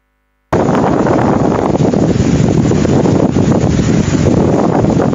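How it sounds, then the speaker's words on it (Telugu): Steady, loud wind effect blowing in a rush during a student stage performance, starting abruptly after a moment of silence and holding constant to the end with no voices. "ఈ గాలి ఎఫెక్ట్ ఏంటి"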